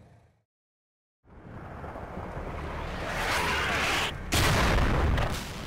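Artillery fire in the Combat Mission Cold War game: after a brief silence, a steady roar of distant shelling builds, with rumbling booms and a loud burst near the end, no speech.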